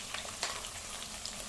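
Food frying in oil in a wide clay pot crackles with a dense, steady sizzle and occasional sharper pops, close and continuous throughout.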